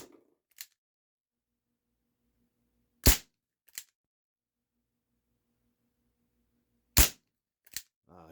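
Shots from a Barra 1858 Cowboy BB pistol: two sharp, loud cracks several seconds apart, each followed by a fainter click or impact, with quiet stretches between and no talking.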